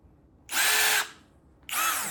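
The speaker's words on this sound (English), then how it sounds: "I love this drill already." Power drill boring small screw holes while a DIY pedicure station is built, with two close, loud whirring bursts, the first about half a second long and the second starting after a short pause.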